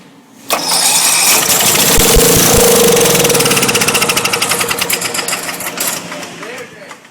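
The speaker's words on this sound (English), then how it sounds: "you can squirt carburetor cleaner in it, and it'll fire off" A Briggs and Stratton lawnmower engine roars to life on carburetor cleaner and runs loud and close for several seconds, then starts to stumble and sputter with uneven pulses before dying out.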